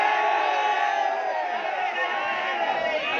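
A large crowd at a religious gathering chants slogans together in a loud, continuous, close roar of many voices, held steady throughout.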